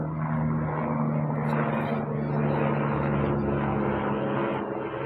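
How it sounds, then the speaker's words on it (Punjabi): Helicopter heard as a steady, muffled rotor-and-engine drone, constant and fairly close, running evenly throughout with no talk. "ਹੈਲੀਕਾਪਟਰ ਦੀ ਆਵਾਜ਼ ਲੱਗ ਗਈ ਹੁਣ।"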